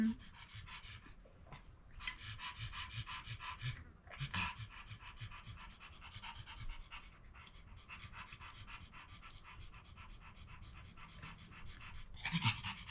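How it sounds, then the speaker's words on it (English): A dog pants heavily and rapidly close by, in quick continuous breaths that last the whole stretch, with a short louder burst near the end and no talking. "The dog will not obey, so we're gonna have to deal with the heavy breathing."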